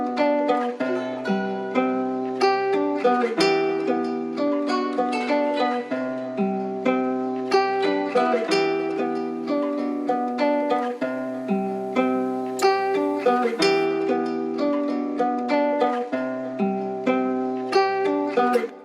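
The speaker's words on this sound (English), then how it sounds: "I had this guitar sample that I got from looperman.com." A looped Afrobeats guitar sample plays a bright, repeating plucked chord pattern in a steady rhythm, close and loud, with no talking.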